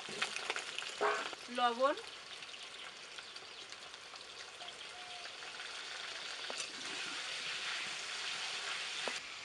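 Potatoes sizzle in hot oil in a pan, a steady broadband frying hiss that swells after a brief burst of clatter near the start; a voice speaks briefly over it.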